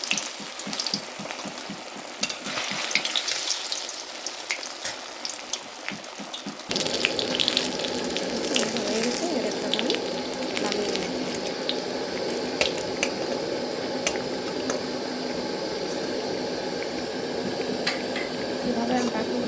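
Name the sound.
potato-stuffed eggplants frying in oil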